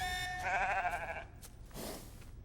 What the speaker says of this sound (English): Unleash the sheep!